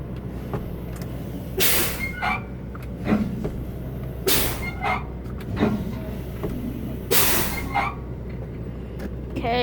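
A Kenworth dump truck engine runs with a steady low rumble, broken by three loud, sharp bursts of hissing air spaced a few seconds apart.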